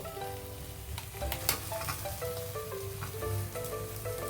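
Cubes of paneer added to cooked spinach in a pan for palak paneer sizzle and fry steadily, with scraping stirs and soft clinks of the utensil over the continuous hiss, no voices.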